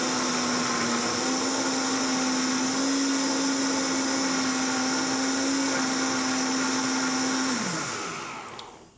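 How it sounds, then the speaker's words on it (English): A countertop blender whirs steadily and loudly as it pulses chile verde sauce ingredients, a mixing stick guiding the mixture, holding one constant motor pitch before spinning down abruptly near the end. "This type of blender comes with a stick to kind of guide the mixture around inside."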